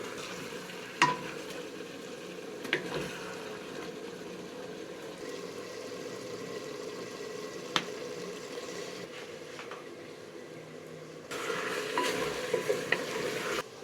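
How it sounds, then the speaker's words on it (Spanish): Vegetables for guiso carrero steam and sizzle in a pot as they release their juices, a steady bubbling hiss with occasional sharp clicks and scrapes, louder again near the end. "¿Sentís el ruido? Ese vapor nos indica de que sí, la verdura está hirviendo toda"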